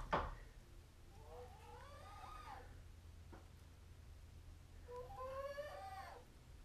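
A sick chicken's harmonic calls, two drawn-out warbling clucks separated by a pause, fairly close in a quiet bathroom with a faint sharp knock at the start.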